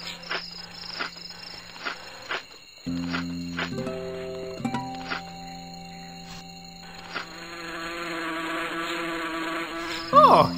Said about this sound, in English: Anyways, this is a bee. Bees are nasty.